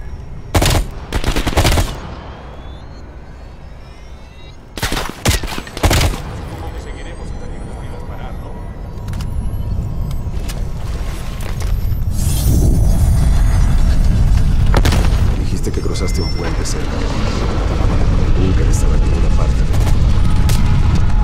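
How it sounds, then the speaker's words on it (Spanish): Gunfire from the Call of Duty Black Ops Cold War campaign, with sharp bursts of automatic fire early on that give way to a dense, sustained roar of shooting and explosions, loud and close. "Hacia el sonido de los disparos."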